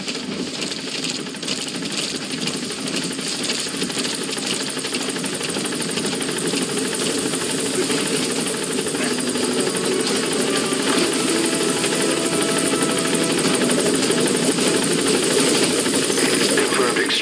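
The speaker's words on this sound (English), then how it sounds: "Support helicopter has arrived." A support helicopter in Metal Gear Solid V chops and whines loudly and steadily for the whole stretch, a constant close mechanical roar with game sounds faintly mixed in.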